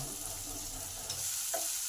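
Chopped onion with garlic frying in a pan makes a quiet, even hiss of sizzling oil, with a couple of faint stirring ticks near the end of this brief moment.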